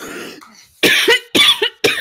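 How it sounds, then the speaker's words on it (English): Several harsh, close coughs in quick bursts, about three or four, each short and loud with brief pauses between. "He's coughing"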